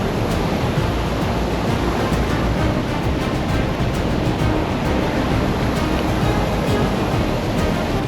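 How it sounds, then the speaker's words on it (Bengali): Big ocean waves crash near a remote desert island, a loud, continuous roar of surf filling the whole stretch with no breaks and no voices. "প্রচণ্ড বড় বড় ঢেউ আসছে"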